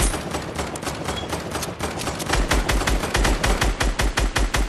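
Sustained automatic gunfire rattles in fast, evenly spaced shots during a video game firefight, growing louder and heavier partway through, with no talking over it.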